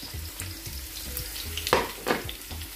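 Onions sweating in a pan alongside minced meat, a close crackling sizzle with stirring scrapes and a few sharper spatters, over a low rhythmic thumping underneath.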